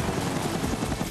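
Police helicopter pursuing at full speed over a freeway in a Sonic X cartoon chase, a continuous dense rotor roar and whine held steady and fairly loud throughout, with no voices.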